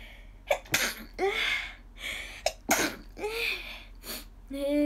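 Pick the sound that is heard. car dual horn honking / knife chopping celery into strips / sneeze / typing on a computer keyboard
sneeze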